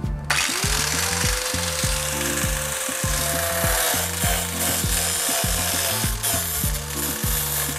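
A power tool cuts into the pinch seam of a Jeep Renegade, giving a loud, close, rapid rhythmic grinding and rasping with repeated pulsing cycles and a rising whine that returns. It runs without a break, with no talking.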